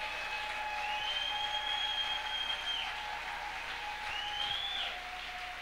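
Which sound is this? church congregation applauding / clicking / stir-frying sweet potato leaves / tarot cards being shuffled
church congregation applauding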